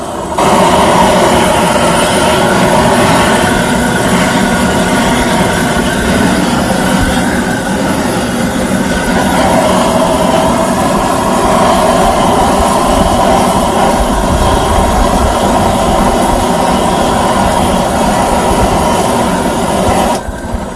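A grill gun propane torch blasts a powerful flame into wood to light a Santa Maria style tri tip cook, a loud, steady, broadband roar sustained for about twenty seconds with no talk.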